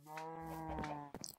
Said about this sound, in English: we need some moo cows